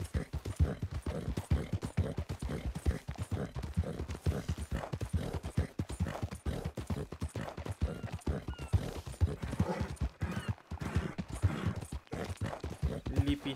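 Horse hooves clip-clopping at a steady walking rhythm in the Western roleplay video game RedM, a Lipizzaner horse, continuous and fairly close with faint talk in the background.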